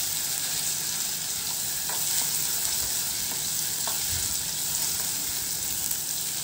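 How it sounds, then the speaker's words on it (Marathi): Ginger-garlic paste frying in hot oil, a continuous bright hiss of sizzling with a few faint stirring clicks, steady and moderately loud throughout. "ही आलं लसणाची पेस्ट आपल्याला व्यवस्थित तेलामध्ये परतून घ्यायची आहे."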